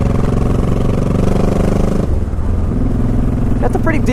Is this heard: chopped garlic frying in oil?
no